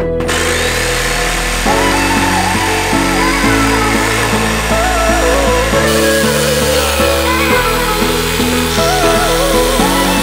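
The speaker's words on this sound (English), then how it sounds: "now the jigsaw should be able to fit between the holes to connect the dots" A jigsaw cutting between drilled holes for a van wheel well box gives off a loud, continuous motor whine whose pitch shifts in steps as the blade works. It is close and runs throughout, with no voices.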